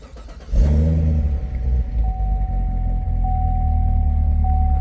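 A C7 Corvette Z06 engine cranks and fires up, then settles into a loud, steady idle with a low rumble and a faint whine, heard close with no talking.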